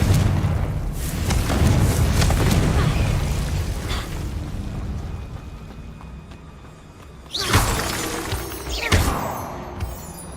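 Confringo fire spell explosions in the video game Hogwarts Legacy: a sustained booming rumble over the first seconds, then two sharper, louder blasts near the end.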